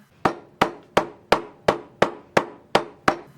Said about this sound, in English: I hammered the seams flat once again.